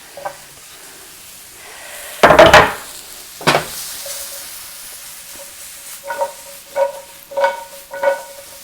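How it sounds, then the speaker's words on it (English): Thick-sliced mushroom chunks drop into a hot frying pan with a loud, close burst of sizzling, then a stir and a steady hiss with repeated spatula scrapes and crackles as they fry. "I'm gonna drop these mushrooms in here"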